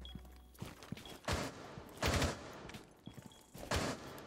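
Video game gunfire from an F2 rifle with an extended barrel, with several rapid bursts of automatic fire separated by short pauses and a few lighter single shots, loud and close, with no talking.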